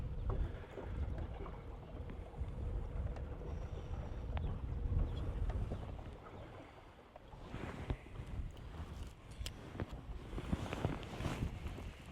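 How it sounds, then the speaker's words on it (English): Wind blowing over a river while fishing, a steady broadband rush with buffeting microphone noise, water lapping and faint boat knocks. "bit stronger of a wind blowing here now"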